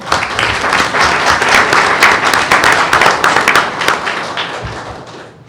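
A room at a regular board meeting breaks into applause, loud and close, with distinct individual claps and hand taps in a busy patter that swells, holds, then fades after about four seconds.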